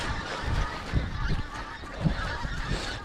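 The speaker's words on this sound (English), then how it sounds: "The geese migrating to sea." Geese honk repeatedly as they migrate toward the sea over Scotland, calls overlapping in an irregular chorus against steady wind and outdoor noise.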